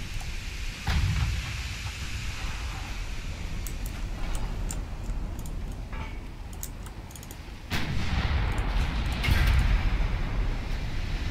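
Naval gunfire in the warship battle game Ultimate Admiral Dreadnoughts: deep, booming salvos that roll in over a constant rumbling background, with one clear heavy blast near the start and a louder, longer barrage later.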